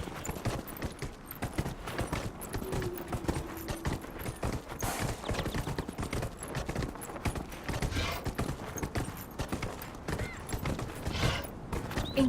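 Horse mount galloping in Dragon Age: Inquisition, a continuous rapid clip-clop of hooves with faint creaking tack, steady and close throughout.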